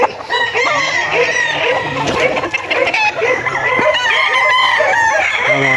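A young rooster, a stag about seven months old, crows repeatedly at close range. Other fowl cluck and call around it in a busy farmyard setting.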